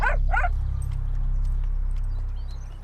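A dog barks twice in quick, close bursts at the start, then quiets to a low continuous rumble of background noise.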